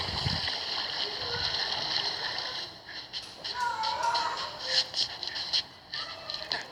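Sea water in a Vegas gangster video game splashes and sloshes faintly over a thin, steady synthetic ambience, while someone talks over it.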